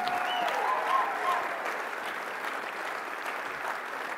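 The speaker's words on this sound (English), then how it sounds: "let's have one last round of applause for all of our Circle honorees tonight" Applause for honorees at an Emmy Gold and Silver Circle awards ceremony, a full steady round of clapping from the audience that holds evenly with faint murmurs.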